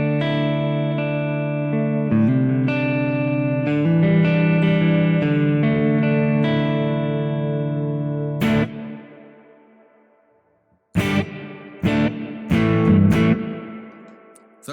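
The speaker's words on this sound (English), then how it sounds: "you are only going to hear the reverb sound" Electric guitar chords run through a Strymon BigSky reverb pedal ring out with a long washy tail that fades to near silence, then a few sharp strummed stabs follow with lingering ambience.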